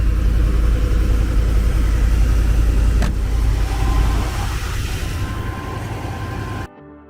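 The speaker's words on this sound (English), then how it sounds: "I'm just gonna let it warm up real quick, so I don't shut it off cold and, you know, flood the engine" A vehicle engine idles while warming up at an auction walkthrough, a steady low rumble running continuously and close, easing slightly quieter before cutting off near the end.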